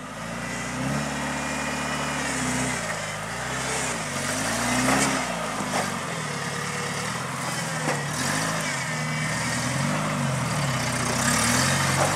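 An off-road vehicle crawling over rocks on a twisted staircase trail: a steady engine drone at low revs that rises and dips with throttle, close and continuous, with faint scrapes and no talk.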